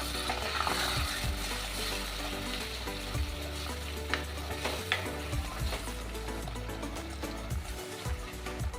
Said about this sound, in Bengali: এবার দিয়ে দেব এই মশলা ধোয়া জলটা